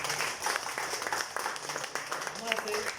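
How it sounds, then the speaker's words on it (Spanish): Church congregation applauding during a sermon, a steady broadband patter of clapping with some voices mixed in, moderately loud and continuous throughout. "denle un aplauso"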